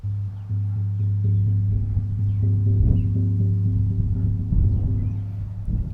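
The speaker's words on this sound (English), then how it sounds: "This is a synthetic skin drum." A synthetic-skin buffalo frame drum rings with a low, humming boom, struck a few times so the deep tone sustains and overlaps, fairly soft and close.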